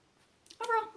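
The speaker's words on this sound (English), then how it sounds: "That was my cat." A house cat gives a single short meow, close and fairly quiet, after a brief rustle.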